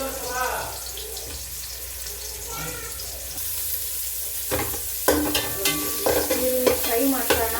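Onions frying in hot oil for a rural-style mutton sambar, with a steady sizzle under scattered stirring clatter that grows busier and more percussive in the second half, and a voice talking faintly in the background.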